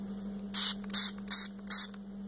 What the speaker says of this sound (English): I'm going to spray this one too.